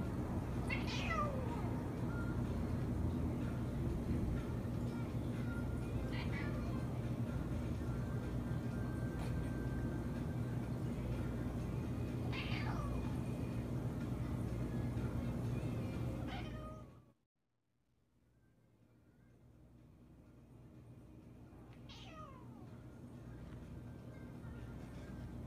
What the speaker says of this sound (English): the cats gather at the door, crying